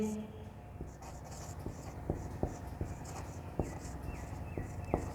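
Chalk or marker strokes on a classroom board during a Hindi-language English grammar lesson, a series of sharp taps and scratches spaced irregularly over steady room noise, with a teacher's voice speaking between them.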